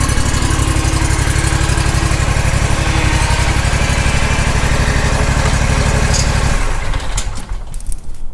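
A 30-inch Toro lawn mower engine runs steadily and loud with a strong low drone, then cuts out near the end, leaving only faint scraping and knocks.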